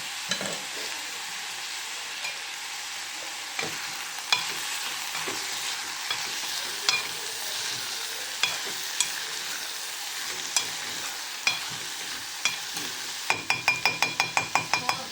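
Urad dal with grated carrot cooks in a pan, giving a soft continuous sizzle while a spoon stirs it, with repeated sharp clinks against the metal that speed into a quick run of taps near the end, and no voices.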